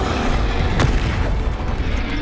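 A Confringo fire spell bursts in Hogwarts Legacy, a sharp boom at the centre of a busy, loud combat mix of rumbling effects, with no talk.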